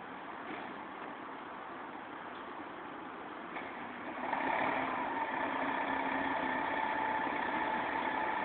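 A Portland Fire and Rescue ladder truck sits at its station with the engine idling in a steady low rumble. The engine note grows louder and fuller about halfway through, then holds.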